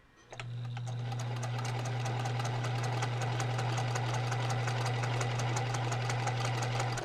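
A sewing machine stitches fabric pieces together along a seam, running steadily and close for about seven seconds with a low motor hum and fast regular needle ticks, starting just after a brief quiet moment.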